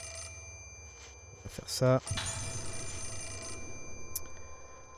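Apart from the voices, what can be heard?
telephone ringing in Project Zero 4, video game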